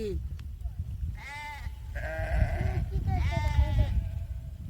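Sheep and goats grazing on a hillside bleat in a few drawn-out, wavering calls, fairly close, over a low murmur of voices and outdoor background.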